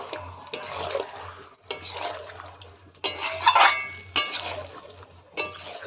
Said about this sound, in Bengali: মশলার সঙ্গে ভালো করে মাংসটাকে এবার কষিয়ে নেব।